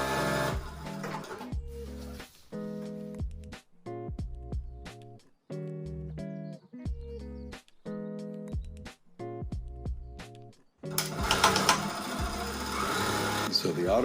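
A Juki DDL-8000A industrial sewing machine stitching in short bursts, with a rapid, steady mechanical whir that stops and starts between runs, then a louder continuous run with background noise at the end.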